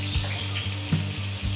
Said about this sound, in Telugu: ఫిష్ బాగా ఫ్రై అయిపోయాయి